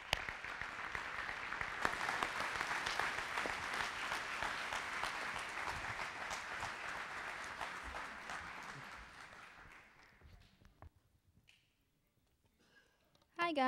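A church congregation claps to welcome a teenage speaker, sustained even applause for about ten seconds that fades out, leaving near silence and a voice starting at the very end.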